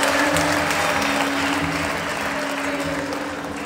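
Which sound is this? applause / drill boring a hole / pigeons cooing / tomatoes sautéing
applause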